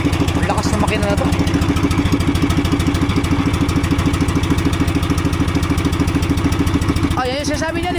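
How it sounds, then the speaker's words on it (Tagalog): A loud engine runs close by in a steady, rhythmic idle with a chugging, clattering pulse throughout, and someone speaks briefly over it near the end. "Lakas ng makina na to."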